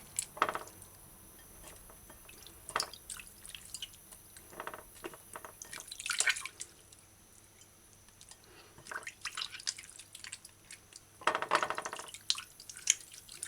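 Water drips and splashes in short bursts as raw chicken is rinsed and rubbed, with quiet gaps between the wet squelches.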